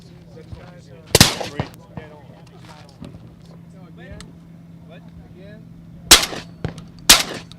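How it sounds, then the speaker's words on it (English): A 12 gauge shotgun fitted with an Omega Salvo 12 suppressor fires three sharp, close shots, one early and two in quick succession near the end, with people talking quietly between them. "That was a 12 gauge shotgun."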